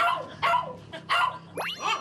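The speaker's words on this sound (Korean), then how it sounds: "여전히 짖는구나." Maltese dog barking indoors, several sharp close barks in quick bursts with a high yelp-like sweep near the end, loud and alone.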